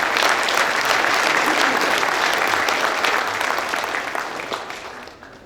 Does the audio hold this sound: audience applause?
yes